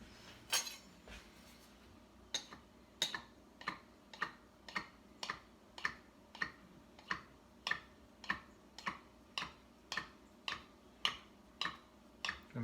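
Hand-rolled pasta dough being cut with a knife, giving a steady run of sharp, evenly spaced clicks and taps, about one or two per second, close and fairly quiet with no talking.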